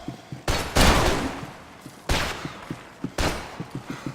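Gunfire rings out in Max Payne 3: several loud, close shots with reverberant tails, and one heavy blast at the start, each followed by smaller cracks and debris clatter.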